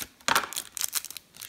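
Packaging being torn open on an OFS Classic Extraliga hockey card hobby box, a burst of crinkling, tearing plastic and card rustle in short close bursts, no talk.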